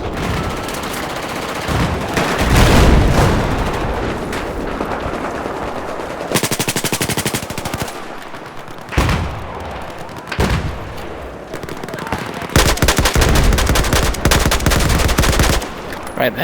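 Battlefield 4 gunfire rattles in loud sustained bursts of rapid automatic fire, with heavy booming shots and brief pauses between volleys.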